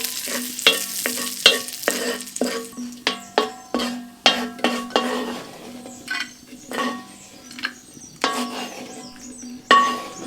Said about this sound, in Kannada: ಈಗ ನಾನು ಅದೇ ಪ್ಯಾನ್ನಲ್ಲಿ ಸ್ವಲ್ಪ ತುಪ್ಪ ಹಾಕ್ಕೊಂಡು ಗೋಡಂಬಿನ ಫ್ರೈ ಮಾಡ್ಕೊಳ್ತೀನಿ